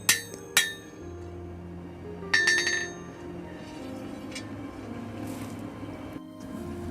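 A hand hammer strikes a sword tang on a stump anvil during forging, with a few sharp ringing blows spaced apart, one quick double strike, then quieter shop ambience.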